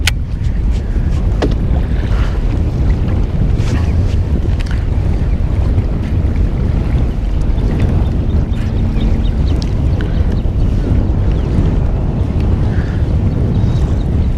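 Strong wind roars steadily across an open lake on Guntersville Lake, with buffeting microphone gusts and low rumbling from a boat out on the water, loud and constant throughout with no talking.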